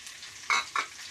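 A bay leaf and garam masala hit butter in a pan, faint background hiss with two quick, sharp sizzling scrape bursts close by as they are stirred.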